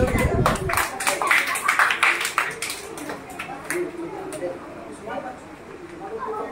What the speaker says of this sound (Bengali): একদম সঠিক উত্তর। হাততালি।